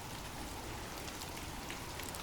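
Steady rain falling, a dense even hiss of drops that stays soft and constant throughout with no voices.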